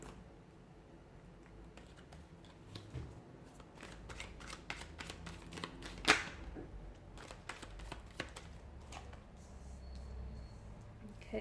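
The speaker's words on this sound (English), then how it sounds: "give the cards a shuffle and begin." Tarot cards are shuffled up close in quick bursts of riffling and soft snapping, with a sharp flick in the middle and quiet handling between.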